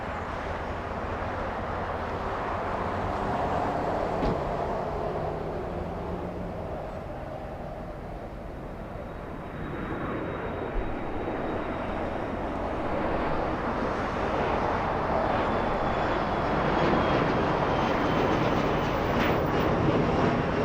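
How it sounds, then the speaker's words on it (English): A Delta Embraer E175 arrives at Los Angeles International Airport after a flight from Las Vegas, its broad jet roar steady and building slightly toward the end, with wind buffeting the microphone throughout. "That's not Air Tahiti, that is Delta, flying in from Vegas, an Embraer E175"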